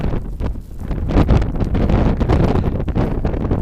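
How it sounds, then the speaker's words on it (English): Loud gusting blizzard wind buffets the microphone in a constant roaring rush during a Boston snowstorm, close and unbroken, with no voices. "there's the wind. I take it all back. It's windy."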